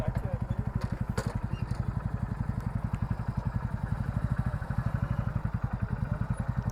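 Two motorcycles pass along a road in Coorg, Karnataka, their engines throbbing in a fast, steady, pulsing beat that stays moderately near and low in volume throughout.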